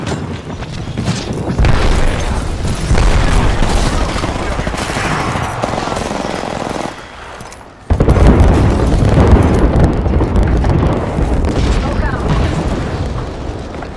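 Artillery strike explosions in the Apex Legends battle royale, a dense run of heavy booms and blasts rolling on for several seconds, dropping briefly and then surging back loud and close.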